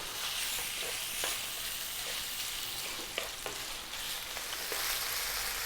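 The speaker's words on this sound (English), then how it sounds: "So I'm going to toss this around in the pan just for about 4 to 5 minutes." Lamb pieces sear in a hot pan with a steady bright sizzle, punctuated by soft scraping clicks as the meat is tossed and stirred.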